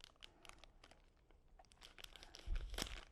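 A knife cuts open a plastic cornmeal package, giving faint, close crinkles and scattered rustles with a louder crunch of tearing plastic near the end.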